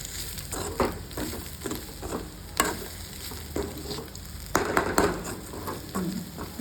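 Dried prawn curry stirred and mixed in a pan, a spoon scraping and tapping in repeated strokes over a soft sizzle, close and moderately loud, with no talking.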